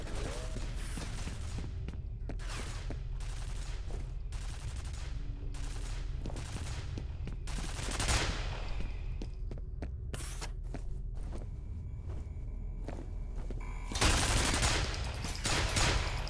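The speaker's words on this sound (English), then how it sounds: "Stop shooting me, it hurts." Gunfire in the shooter game FEAR: bursts of rapid shots and single cracks scattered over a low rumble, with a heavier burst near the end, moderately loud and no talk.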